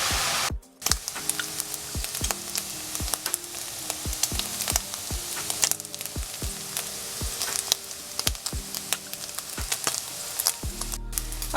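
Bacon frying in a wok, a steady close sizzle and crackle with sharp spitting pops and occasional stirring scrapes, continuous and fairly loud.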